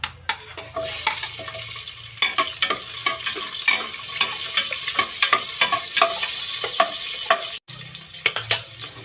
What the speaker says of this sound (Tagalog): dito na ako mag-gisa sa sa pressure cooker